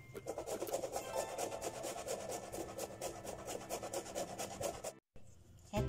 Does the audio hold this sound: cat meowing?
no